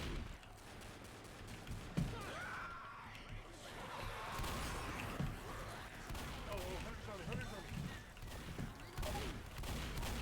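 Shotgun blasts and scattered gunfire from the Left 4 Dead video game, during a finale fight, pop through a busy, noisy mix of game effects, with voices talking over the action.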